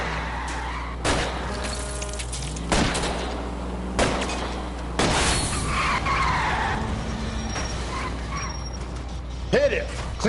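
Car chase in L.A. Noire with a car spinning out: tires skid and screech over a steady engine drone, with sharp impacts and sliding noises, while a voice talks over the action.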